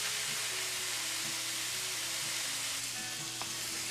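Burger patties sizzle and fry steadily in a hot pan, a continuous crackling hiss with faint scraping as they are nudged about, no voices over it.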